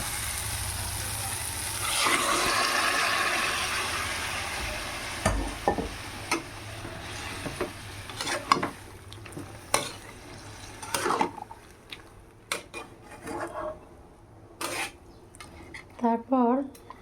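Shredded cabbage hits hot fried spice paste in a pan with a loud sizzling burst. A steady fry follows, broken by repeated scraping and clinking as a spoon stirs against the pan.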